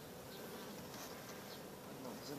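Faint, continuous buzzing of honey bees at a beehive, a soft droning hum with small swells as individual bees pass close.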